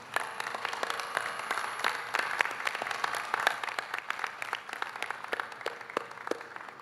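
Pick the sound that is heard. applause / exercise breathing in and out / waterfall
applause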